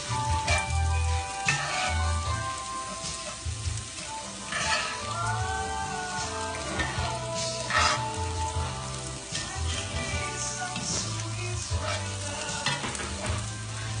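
Rice browns in a hot pan for red beans and rice, a dense continuous sizzle and crackle with occasional scraping stirs, close and steady throughout.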